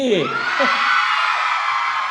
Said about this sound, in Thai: โอเคเอากรี๊ดดังๆอีกสักที